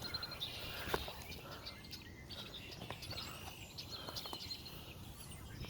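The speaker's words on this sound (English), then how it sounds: "Listen to these fucking birds, dude." Faint birdsong outdoors, with scattered chirps and tweets over a soft, steady ambient background and no voices.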